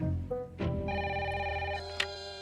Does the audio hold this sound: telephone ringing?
yes